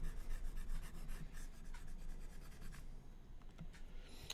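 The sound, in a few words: erasing a pencil sketch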